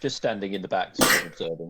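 A single sharp, breathy sneeze bursts out mid-conversation among people at a tabletop role-playing game session, loud and brief, with talking before and after it.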